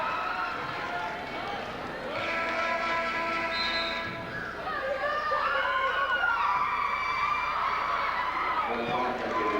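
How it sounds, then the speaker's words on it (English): Sprague basketball fans in a crowded gym at North Salem cheer loudly in a steady roar of shouts and yells that runs through the whole stretch, with a commentator's voice talking over it. "The Sprague fans are cheering again."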